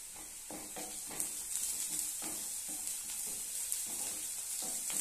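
Onions fry in a pan for a curry, with soft, fairly faint sizzling and repeated scraping stir strokes at a moderate rhythm. No speech is heard.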